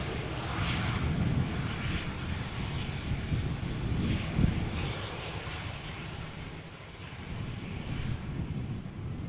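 A fixed-wing airplane arrives in crosswind at Amsterdam Schiphol Airport, its engine roar a steady, broad rumble heard from a distance, holding level throughout with no voices.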